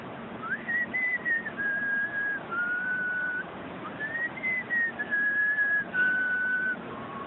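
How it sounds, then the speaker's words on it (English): A person whistles a tune through the teeth, producing clear, sustained melodic notes in two phrases with short pauses between them, close and alone without speech. "mine is whistling because I can whistle two different ways"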